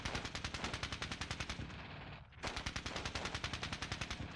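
Light machine gun and rifle fire in Squad Battles at Ponyri, a rapid, rhythmic stream of loud shots that stops briefly and then resumes at the same fast steady pace.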